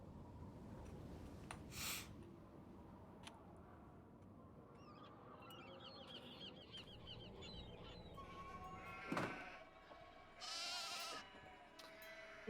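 Sheep bleat in the Nancy Drew video game The Haunting of Castle Malloy. Several short, nasal bleats sound over a steady, busy game background at moderate loudness, with no talking.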